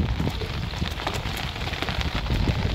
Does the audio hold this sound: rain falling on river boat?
yes